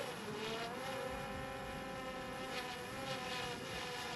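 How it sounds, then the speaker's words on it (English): A DJI Mavic Air 2 drone in flight gives a continuous high, buzzing propeller whine with a steady pitch, heard alone and moderately close throughout. "Let's fly a drone for a while."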